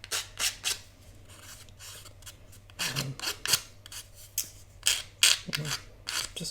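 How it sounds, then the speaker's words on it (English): A nail file used like sandpaper rasps in short, repeated bursts against small paper or chipboard frames, knocking down little nubs; close, dry scratching strokes with brief pauses between. "I always like to keep a nail file in my tool kit to act as sandpaper."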